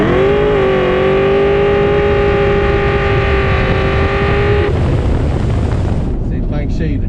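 A Ford Mustang Mach 1 with a 6R80 transmission and boost accelerates hard on Nitto street tires, its engine note loud and rising steadily before a gear change, heard close from inside the car.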